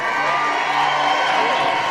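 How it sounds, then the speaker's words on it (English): Crowd murmur filling the historic Great Plains Coliseum as fans file in for a Championship Saturday girls' basketball final, a steady, dense wash of many voices and movement with no single voice standing out. "Nice crowd filing in here for Championship Saturday at the historic Coliseum."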